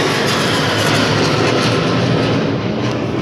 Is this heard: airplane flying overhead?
yes